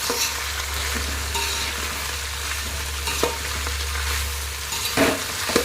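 Green chillies with curry leaves and onions stirred in hot oil in a pan for mixed vegetable rice, a steady close frying hiss with a low hum underneath and a few scraping stirs.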